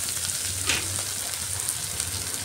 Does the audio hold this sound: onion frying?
yes